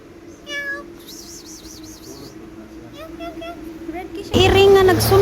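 A stray street cat meows several times in short, rising calls close by, with a person's voice and faint street traffic in the background and a louder burst of noise near the end.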